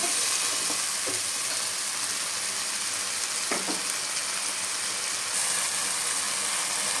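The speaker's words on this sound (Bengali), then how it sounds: "একটু জল দিয়ে দিলাম, মশলা যাতে না পুড়ে যায় এই জন্য কষানোর জন্য আমি একটু জল দিয়ে দিলাম।" Spice paste frying in a pan with a splash of water added keeps up a dense, loud sizzle and hiss throughout, with a few faint stirring knocks, close up and with no voices.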